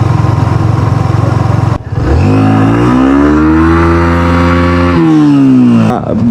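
Close, loud motorcycle engine on a beach ride at Cox's Bazar: a steady drone cuts out briefly, then revs up and holds a rising, sustained whine for a few seconds before dropping back down.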